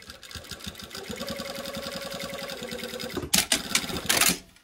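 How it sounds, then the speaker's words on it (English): A sewing machine stitches down the facing on a pair of waisted pants, running steadily with a rapid mechanical rhythm, then ending in a few louder bursts close by with no talking. "connect my line here at the bottom to finish sewing that facing down"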